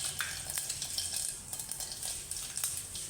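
Cumin seeds and asafoetida sizzle in hot oil, the tempering for a moth bean curry. A steady, close hiss runs throughout with a few light clicks and pops.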